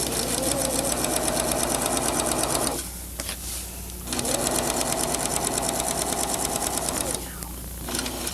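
A home sewing machine stitches a crotch seam with a short stitch in two fast, steady runs, each several seconds long and separated by a brief pause, loud and close.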